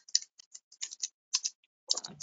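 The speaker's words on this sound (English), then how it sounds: "Typing it right now." Someone types on a computer keyboard in quick, uneven bursts of soft clicking keystrokes, close and fairly quiet in an otherwise silent room, with brief pauses between keys.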